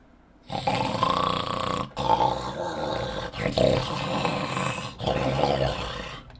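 An old dog named Indy snores loudly close to the microphone, with harsh, rasping breaths that rumble on in long strokes broken by brief pauses roughly every one and a half seconds, and no voices over it.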